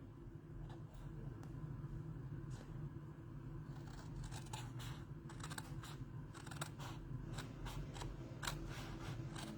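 Scissors snip through cardstock while a pop-up box card is cut out, leaving a series of short, crisp cuts in an irregular rhythm over a steady low room hum, with no voices.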